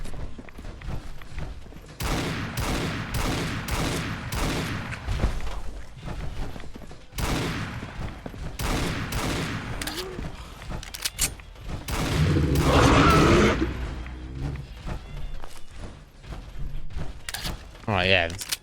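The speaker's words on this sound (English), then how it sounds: "the gun sound sounded a little bit off there" Gunfire in the video game Fallout 4, a rapid series of sharp shots in bursts with pauses between, followed by a louder explosive boom, under occasional talking.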